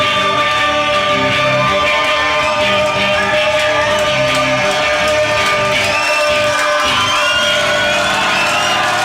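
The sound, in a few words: audience applause and cheering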